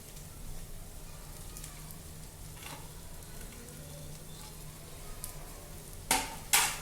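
Chopped boiled potato sautés in oil with chillies in a pan, a faint steady sizzle with occasional soft stirring scrapes, then two sharp louder bursts of spattering near the end.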